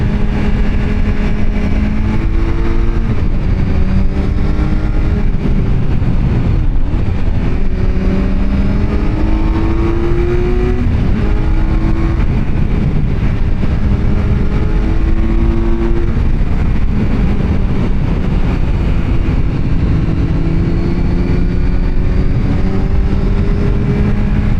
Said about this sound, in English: Alright, let's just listen to the engine.